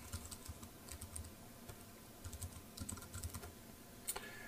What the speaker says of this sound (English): My typing's a little bit slow